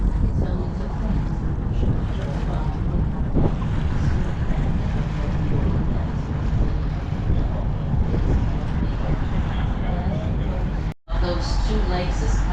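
A tour boat cruising on the Niagara River near Buffalo, a loud, steady rush of engine, water and wind buffeting the microphone throughout, with a guide talking over it and a brief dropout near the end.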